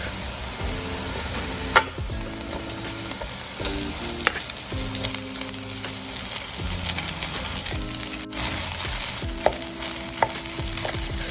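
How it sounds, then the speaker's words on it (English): Rice frying in a pan with butter for shrimp, pork or chicken fried rice, a loud continuous sizzle with scraping utensil strokes and clinks as it is stirred, no voices. "Start to give it a good stir."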